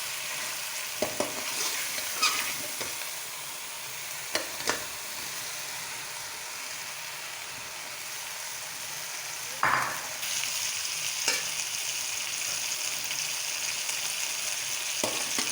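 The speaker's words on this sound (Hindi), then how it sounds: "अब इसमें हम भिंडी शामिल कर देंगे" Okra hits hot oil with cooked chicken and is stir-fried, a steady loud sizzle throughout, broken by a few scraping stirs and clinks of a spoon against the pan.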